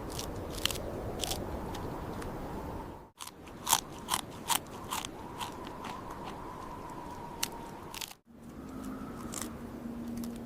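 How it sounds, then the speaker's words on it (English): A marmot standing upright chews roots in a mountain habitat, a steady, close stream of crisp crunching and snipping bites with sharp clicks, continuous throughout with brief gaps. "The marmot stands up to chew roots."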